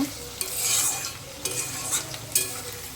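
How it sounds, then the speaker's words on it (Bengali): Potatoes frying in a pan for a home-cooked muri ghonto with fish head, a steady close sizzle broken by sharp clanks of a spatula stirring and scraping. "আলুগুলো আগে একটু ভেজে নিই"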